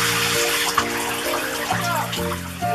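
Water pours from a bathtub tap during a dog's bath at home, a steady rushing splash, loud and close, with no voices.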